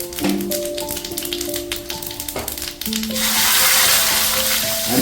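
Fenugreek and cumin seeds hit hot oil for sambar, a few pans clinking and tapping before a loud, steady sizzle takes over, close and continuous.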